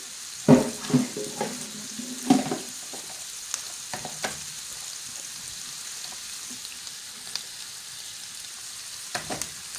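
Chopped onion frying in a pan gives a soft, continuous sizzle under a few louder clatters of a utensil against the pan early on, with occasional stirring knocks and a quieter hiss through the middle.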